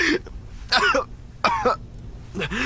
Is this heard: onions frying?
no